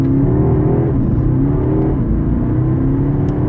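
Porsche Panamera 4S, a four-wheel-drive 422-horsepower car, pulling away: a loud, steady engine drone with rising and falling rev tones throughout, close and alone with no talk.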